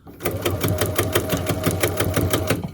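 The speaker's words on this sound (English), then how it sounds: "I'm sewing the whole thing in here. I'm going to go back and forth over this" A sewing machine runs back and forth stitching ribbon onto a handmade needle roll, a close, loud, rapid rhythmic chatter of the needle over a low motor hum, continuous throughout.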